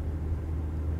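A 2021 Hyundai Creta cruising at a steady 56 on cruise control, heard from inside as a low, even engine and road rumble with no other sounds.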